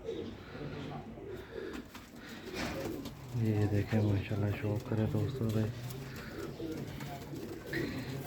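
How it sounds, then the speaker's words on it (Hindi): Ferozpuri pigeons coo in a steady, throaty rhythm close by, partly overlapping with someone talking. "बड़े ही आला क्वालिटी के कबूतर हैं फिरोजपुरी"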